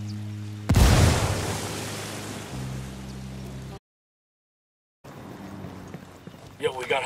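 A frag grenade goes off in Ghost Recon Wildlands as one loud, close blast, its rumble fading over a few seconds before a short silence, then quieter ambient noise returns.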